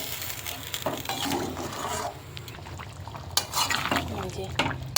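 Water goes into a pan of green chilli chicken curry with potatoes, bringing liquid splashing, spoon stirring and clinks of metal against the pan, close and moderately loud with sizzling underneath.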